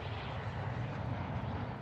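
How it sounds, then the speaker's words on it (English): Enemy attack helicopter approaching in a military video game, a steady low rotor and engine drone that holds at an even, moderate level throughout without any talk. "Be advised, enemy attack helo is heading your way."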